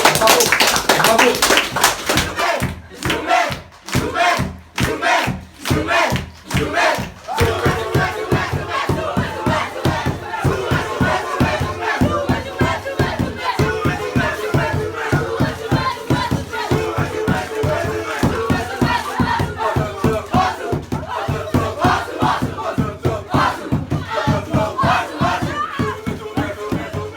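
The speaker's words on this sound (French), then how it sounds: "Moi, je vous applaudis. Bravo. Bravo. Bravo." A crowd cheers and claps for an under-14 boys' team from Montreal, with loud sustained applause, rhythmic clapping early on and a wall of shouting throughout.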